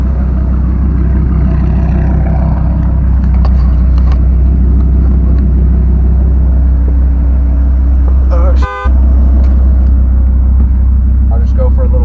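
A Dodge Viper engine rumbles heavily at close range while idling and driving, a dense low drone that stays loud throughout, with people talking over it and a short sharp tone near the end.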